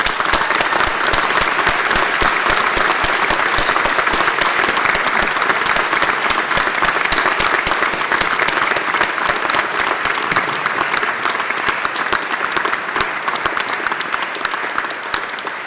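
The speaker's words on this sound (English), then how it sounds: "let's together applaud what they have done for you during this period" Graduates applaud their families at a university graduation ceremony, a dense, loud, sustained roar of many hands clapping that holds steady throughout and eases slightly toward the end.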